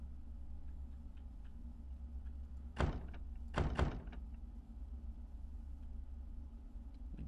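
In a horror video game, a locked door is tried in a house at night: a sharp thunk followed by two quick rattling knocks and bumps, loud against a low, quiet ambient drone.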